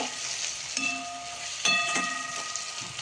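Vegetables for Schezwan fried rice sizzle in oil in a pan, a close, continuous hiss broken by a few clinks and scrapes of a stirring spoon, with no voices.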